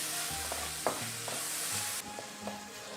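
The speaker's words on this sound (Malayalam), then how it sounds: "ഇതിലേക്ക് ഇട്ടിട്ട് ഈ തക്കാളി ഇതുമായിട്ട് വെന്ത് ചേരുന്നത് വരെ ഇളക്കി കൊടുക്കുക" Chopped tomato and onion sizzle in a pan for a pork and Chinese potato curry, with a low steady fry and a few soft spoon scrapes as it is stirred.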